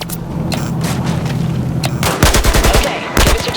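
Battlefield 4 gameplay gunfire: rapid automatic bursts and heavy booming shots crack loudly and close, with a dense volley in the second half over a low rumble of in-game noise.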